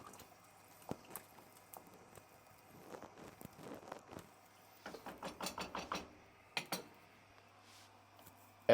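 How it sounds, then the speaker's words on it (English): Ribollita, a Tuscan kale and bread soup, being stirred in a pot: soft scraping and knocking taps in irregular bursts, moderately close, over a quiet background hum, with no talking. "Give it a stir."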